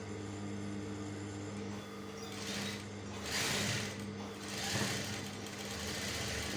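A sewing machine runs steadily along the very edge of a shirt collar, a close, even mechanical whir with several short surges and pauses in stitching.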